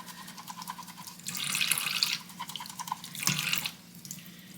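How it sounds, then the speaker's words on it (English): Makeup brush rinsed under running tap water, a soft hiss and splash that swells twice as the brush moves through the stream, close and fairly quiet. "Just make sure you rinse that soap out."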